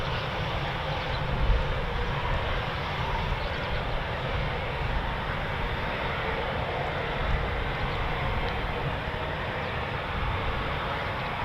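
A Eurofighter Typhoon FGR4 fighter jet idles while lining up on the runway at RAF Coningsby, a steady, loud, unbroken engine roar and rumble lasting throughout with no talk.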